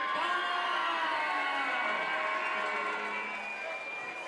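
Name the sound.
crowd cheering before cage fight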